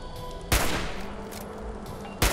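Two sharp gunshots in Fallout 4, spaced nearly two seconds apart, loud and close, with a low game ambience and faint background sounds between them.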